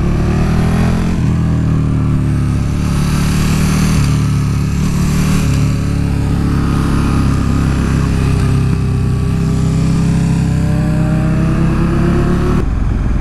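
Sport motorcycle lapping a race track, its engine loud and continuous with rising and falling revs through gear changes and wind noise, heard from on board.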